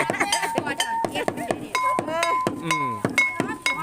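Rapid, rhythmic wooden knocks as a wooden mortar is struck in a steady musical pattern, close and bright, with faint voices underneath, at a market in Isan, Thailand.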